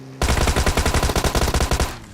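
Rapid bursts of automatic gunfire in the mobile battle royale game PUBG Mobile, a loud, steady stream of shots roughly two seconds long with no talking.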